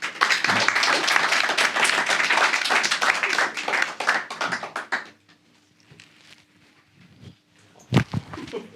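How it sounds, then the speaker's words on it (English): Audience clapping for the panelists at a DAO conference panel in Paris, a dense burst of applause for about five seconds that fades to scattered claps and quiet room noise. "Can we just have a bit small clap for our panelists?"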